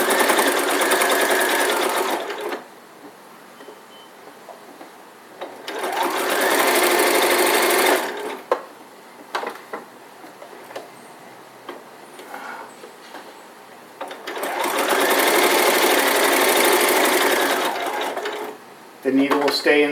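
A sewing machine runs in two long, steady bursts stitching a quarter-inch seam on an elf hat, loud and close, with quieter gaps of handling and brief talk between the runs.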